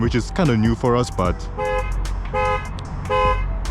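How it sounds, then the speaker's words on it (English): A 2023 Ford F-150 EcoBoost pickup's alarm sounds after being set off by the key fob: repeated close, loud horn-like blasts with pitch swoops at first, then evenly spaced steady tones, with someone talking over the start. "we're gonna test out our alarm"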